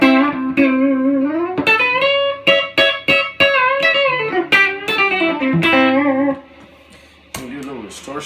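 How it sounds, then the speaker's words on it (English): An Epiphone SG 400 electric guitar played through distortion, ringing sustained notes and short bends in a steady riff that fades out near the end. "Can do a little distortion."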